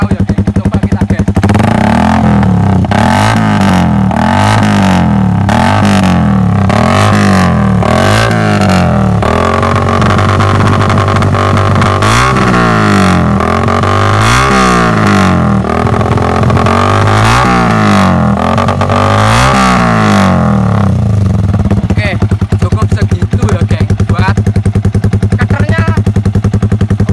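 Yamaha motorcycle with an aftermarket helikopter exhaust revved hard in repeated bursts, each blip a loud, choppy, rattling bark that settles into a rough idle, close and continuous.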